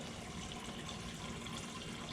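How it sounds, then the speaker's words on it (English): Water running from a refrigerator dispenser into a cup after the filter is reconnected, a quiet, steady trickling hiss that stays even and faint from start to finish. "you want to run a couple of cups full of water"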